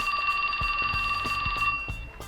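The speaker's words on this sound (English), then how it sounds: "his cell phone rang" A cell phone ringing in a video game set in Shibuya, a steady electronic ringtone with sustained bright tones and a pulsing rhythm, clear and fairly loud, repeating for a couple of seconds with no voices.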